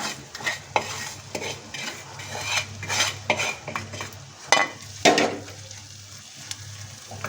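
A spoon scrapes and stirs sliced onions and vegetable peel roasting in a hot pan for stuffed bitter gourd, with repeated close scraping strokes over a soft steady sizzle.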